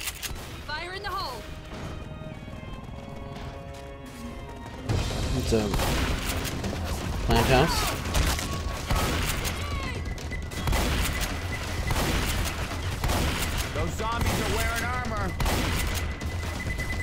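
Shotgun blasts in a Left 4 Dead 2 fight, repeated loud booming shots over constant crashing combat noise, with voices speaking and calling out during the fight.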